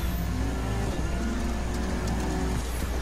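Racing car engine from The Crew 2 roaring steadily at high revs through tarmac and dirt turns, a loud continuous drone that never lets up.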